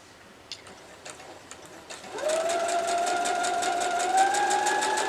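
A sewing machine stitches quilt fabric, starting up after a few faint clicks and then running in a steady, close, even whir with a fast regular needle rhythm.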